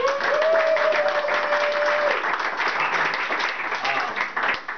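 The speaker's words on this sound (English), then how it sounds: "Give yourselves another round of applause." Comedy club audience in a restaurant basement breaks into steady, full applause that fills the room and then slowly thins toward the end, with a few voices and a brief whoop mixed in near the start.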